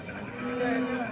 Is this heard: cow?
yes